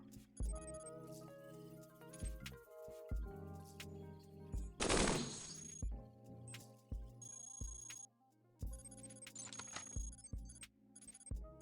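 Light assault rifles fire in the video game Cogmind, with clipped electronic bursts and rapid volleys that come in uneven clusters. One dense, loud blast stands out partway through among sharper, fainter shots.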